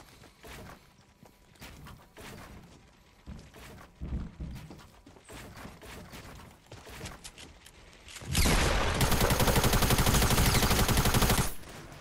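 Fortnite gunfire and rocket blasts crackle in scattered bursts at moderate volume, then a dense, loud burst of rapid continuous fire dominates for several seconds before cutting off.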